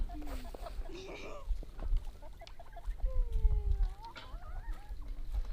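Rooster and hens clucking in a backyard poultry enclosure, with short calls and squawks scattered at close to moderate distance over a low outdoor rumble.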